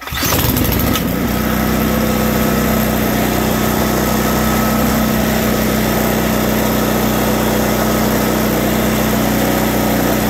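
SnoTek snow blower engine starting after priming, a brief cranking burst that catches within a second and settles into a loud, steady, buzzing small-engine run close by.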